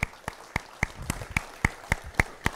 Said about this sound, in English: give a very big applause to our speakers for today